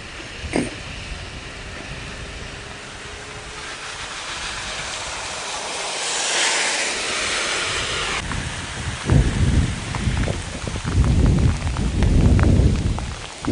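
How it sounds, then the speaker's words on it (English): Heavy rain and gusting wind during Hurricane Irene, a loud continuous wash of rain with surging roaring gusts that grow stronger toward the end, with no voices. "the intensity of the rain bands picking up. Wind's getting stronger."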